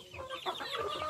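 A chicken gives a quick burst of close, soft clucking that fills a brief moment, with no talking over it.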